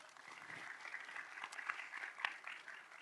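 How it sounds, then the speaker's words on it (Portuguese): Audience applause at a Latin American regulatory panel as a communications commissioner is welcomed. Faint, scattered clapping from a distance, short and steady. "Un aplauso, por favor, para ella."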